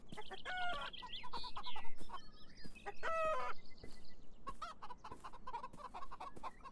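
Chickens in the video game Beyond Eyes, clucking and squawking repeatedly nearby with a short crow-like call, several birds overlapping against a quiet background.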